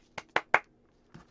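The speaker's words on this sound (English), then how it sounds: "Tapping and clapping." Three quick sharp hand taps or claps in a row, then a pause and one softer fourth hit, close and distinct in a quiet room.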